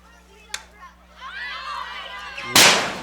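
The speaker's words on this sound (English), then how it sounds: "Warner fouls this one over our heads and hits the press box." At a high school softball game, a fouled ball slams into the wooden press box with one sudden, loud, close bang that cuts in after a stretch of commentator talk and rings out briefly.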